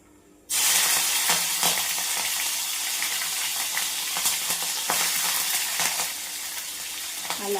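Cumin seeds and chopped green chillies sizzle in a pan after a quiet start, a loud steady hiss broken by scattered clicks and scrapes of stirring, with no talking.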